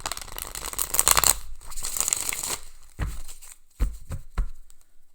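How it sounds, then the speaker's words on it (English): A tarot card deck is shuffled close up: a dense riffling crinkle for a couple of seconds, then a few short, separate card slaps and flutters against quiet gaps. "I'm going to give this deck a few more good shuffles."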